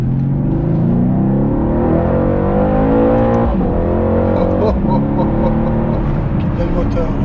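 A car engine revs and roars loudly during a drifting drive, with rising and falling engine tone close by and continuous throughout; someone talks over it.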